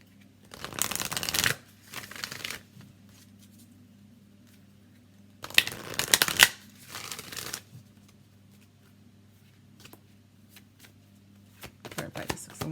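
An Energy Oracle card deck is shuffled up close in crisp, riffling bursts: two long flurries and several shorter ones, separated by quiet gaps and soft voice sounds.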